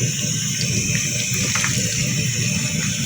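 Crispy chicken thigh pieces fry in hot oil with a cardamom pod, a dense, continuous sizzle and hiss that stays loud and close throughout, with no talking.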